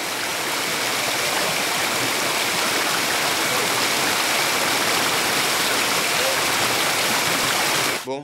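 A flooded underground river rushes through a limestone cave after torrential rain, a loud, dense, unbroken roar of churning water that cuts off abruptly at the end.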